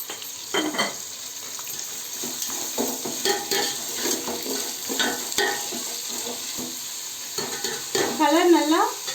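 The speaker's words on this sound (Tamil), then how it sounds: "கலர் நல்லா ப்ரௌன் கலராக வர வரைக்கும் வதக்கிக்கலாம்" Onions sautéing with salt in a pan, a close steady sizzle broken by repeated scraping stirs and light clinks of utensil on metal, no talking.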